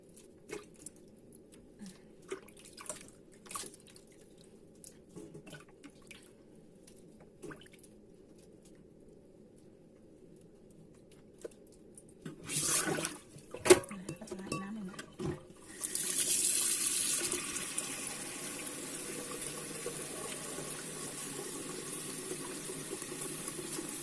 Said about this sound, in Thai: ล้างให้สะอาดนะคะ